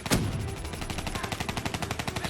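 Rapid automatic gunfire in the Black Ops 3 video game campaign, a dense, loud, steady burst of shots rattling continuously after an initial heavier blast.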